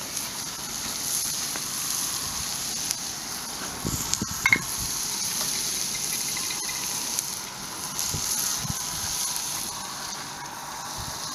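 Fresh minced garlic, six to eight cloves, sizzles steadily in a camp oven for braised steak and onion, a constant hiss with a few brief clinks and stirring knocks, no talk.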